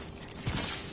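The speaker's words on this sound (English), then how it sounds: "Reloading." A weapon reload in the Apex Legends video game: a brief, fairly faint burst of mechanical clicks and creaks over steady game noise.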